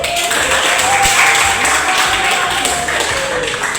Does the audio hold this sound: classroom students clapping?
yes